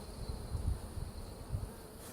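Honey bees buzzing around an open hive during an inspection, a soft, steady hum with low swelling pulses as bees fly close by, faint and continuous, with no voices.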